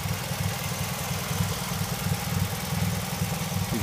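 A 2.4 liter twin cam engine in a Chevy Cavalier Z24 convertible with modified exhaust idles steadily, a deep low rumble with a regular pulsing beat, heard close and alone.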